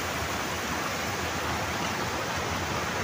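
Water pours out of a small village dam after heavy rain, a continuous close, loud rushing flow like a strong stream or small waterfall, steady throughout with no talk.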